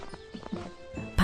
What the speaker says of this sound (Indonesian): Aku bawa kuda sembrani ke kandang dulu ya.